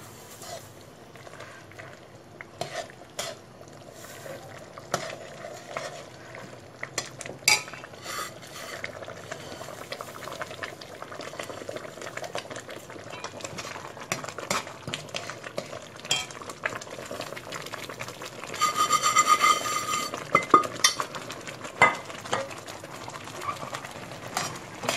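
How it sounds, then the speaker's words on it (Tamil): A spoon stirs semolina into a pot of cooked vegetables with salt for rava kichadi, giving steady scraping and clinking strokes with a brief busier burst of stirring near the end. "1 கப்பு ரவையிட்டு நல்லா இளக்குவ"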